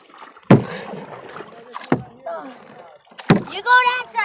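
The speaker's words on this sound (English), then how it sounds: "You just keep paddling on that side." Paddles dip into water from a kayak in three separate sharp, close splashing strokes, with voices talking between them.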